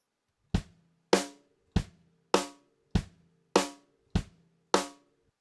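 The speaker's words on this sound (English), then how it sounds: "Kick drum on 1 and 3, snare drum on 2 and 4 will sound like this." Eight evenly spaced drum kit hits play a simple alternating pattern, with the kick on beats 1 and 3 and the snare on 2 and 4. Each hit is clean and decays quickly, and the pattern plays alone with no voices.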